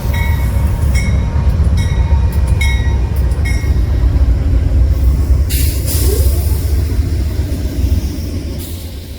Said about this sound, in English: I believe this is the California Zephyr, led again by a pair of P-42s.